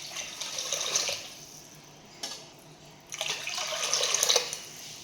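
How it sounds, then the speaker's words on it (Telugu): Water poured from a cup into a pan for sugar syrup, two steady splashing pours separated by a short pause, close and fairly loud. "ఇదే కప్పుతోని 2 కప్పులు వాటర్ తీసుకుందామండి."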